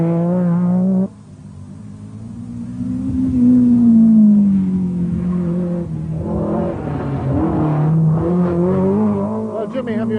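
A four-wheel-drive Metro rally car with around 300 horsepower accelerates hard up from a bridge on a 1990 Donegal Rally stage. The loud engine note climbs in pitch through the revs, dips between gears, then pulls up again.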